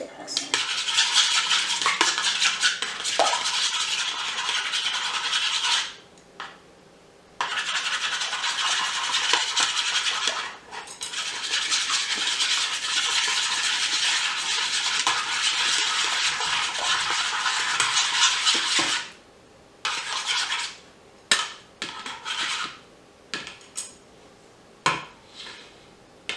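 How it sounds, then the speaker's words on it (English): Chopsticks whisk ingredients in a bowl for fried rice, a busy scraping, clinking rattle that runs in long stretches with short pauses, close and fairly loud. "And now we're going to mix them with our chopsticks."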